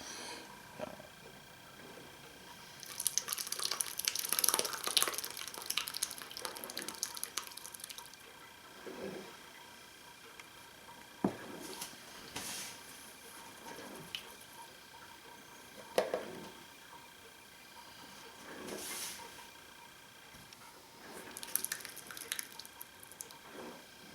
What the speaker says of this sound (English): So what we're going to do now is we're going to strain this off. I use a strainer and cheesecloth.